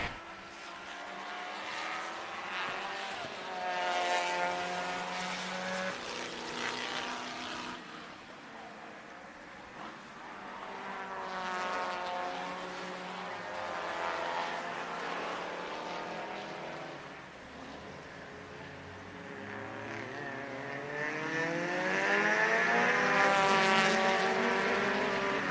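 A race car at The Speed Ring sweeps past on a flying lap with its engine note rising and falling through passes, loud and continuous, with traces of a voice faintly underneath.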